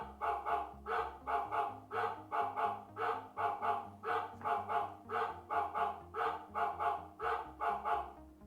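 A Xiaomi Gateway plays its dog-barking ringtone, a steady run of repeated yaps in a quick, even rhythm over a low droning tone, clear and close with no voices.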